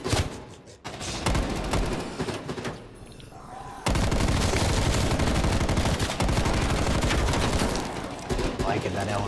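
Light machine gun firing in a video game, rapid sustained bursts of gunfire, loud and close, starting with short volleys then becoming a continuous stream of shots.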